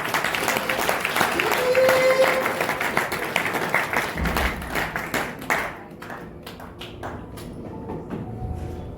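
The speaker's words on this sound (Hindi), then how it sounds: "भाई साहब, इसके लिए दिल से तालियां बजा सकते हैं।" An audience at a business seminar claps for a man called up from the crowd, a dense burst of applause that thins into scattered separate claps and fades, with some talk underneath.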